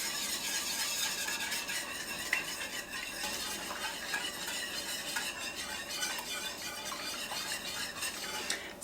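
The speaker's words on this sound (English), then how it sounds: "we have to stir it the entire time" Lemon curd thickens in a pot while being stirred without pause, giving soft continuous scraping and light clinks of a utensil against the pot at a steady moderate level.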